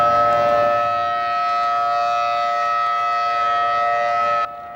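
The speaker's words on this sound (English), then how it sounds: "In Kuwait City, the sirens sounded twice this morning after Iraqi missile attacks into Kuwaiti territory." A loud civil defense air raid siren in Kuwait City, sounding after Iraqi missile attacks in 2003, wails with a steady, sustained tone before cutting off abruptly near the end.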